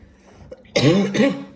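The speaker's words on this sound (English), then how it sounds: "My cough was fine until this pile." Two harsh coughs close together, loud and near, following a quiet stretch.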